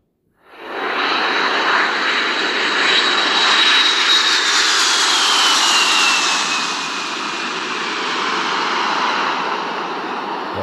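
An airplane engine roars up quickly and holds a loud, broad, steady rush with a slowly falling whine, used as a flying sound effect for an animation of a plane crossing the screen.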